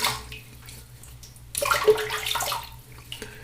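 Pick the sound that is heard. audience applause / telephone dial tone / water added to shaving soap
water added to shaving soap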